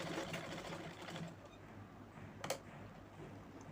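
A sewing machine stitches together pieces cut from an old kurti, a quiet, rapid mechanical whir that runs and pauses, with a small knock partway through and no voices.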